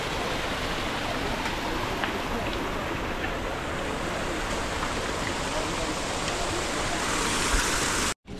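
A mountain stream rushes steadily along the trekking trail to Ghangaria in the Himalayas, a dense, unbroken wash of flowing water heard up close that holds at an even level until it cuts off abruptly.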